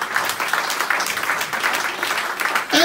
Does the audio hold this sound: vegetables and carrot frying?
no